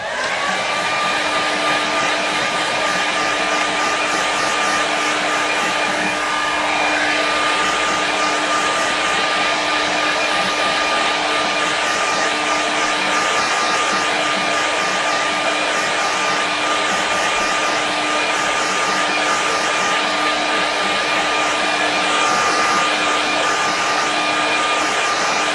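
A hair dryer blows loudly and steadily at close range for the whole stretch, drying a watercolour painting with a constant whine and rush of air.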